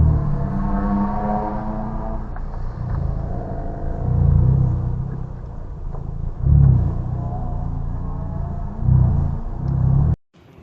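Honda Civic Type R FK2 rolling slowly into busy track-day pits: a low engine rumble with a few swells as the throttle is blipped, steady and moderately close, no speech over it.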